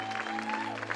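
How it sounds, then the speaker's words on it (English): A church congregation claps their hands together in a short, dense burst of applause, steady and fairly loud with a sustained tone underneath. "Now give the Lord a hand clap in his house."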